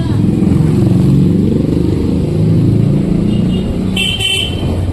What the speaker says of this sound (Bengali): আমরা তাঁতিপাড়ার মধ্যে দিয়ে এখন এগিয়ে চলেছি আমাদের এক্সট্রিম 125R এর টপ স্পিড লোকালের মধ্যে দেখি কতটা তুলে